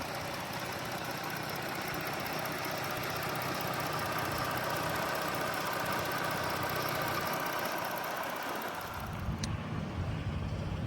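A 2018 Chrysler Pacifica minivan's 3.6 liter V6 idles smoothly with 120,000 miles on it, a steady, even hum throughout, with a slight shift in tone near the end.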